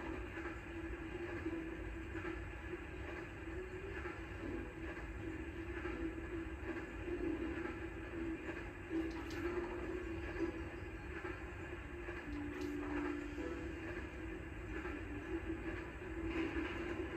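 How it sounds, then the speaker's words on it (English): A steady rumble of a train rolling past in the video game Phineas and Ferb: Across the 2nd Dimension, continuous and fairly even, with faint clicks along the way and no voices. "Here comes another train."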